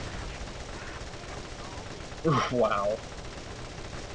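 A gun in the Borderlands video game lets off a quick, loud burst of rapid shots lasting well under a second, heard close over a constant low game backdrop, with a brief spoken exclamation.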